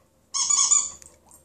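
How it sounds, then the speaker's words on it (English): A squeaky toy gives one loud, close squeak lasting about half a second, followed by a tiny faint chirp. "Do the squeaky toy."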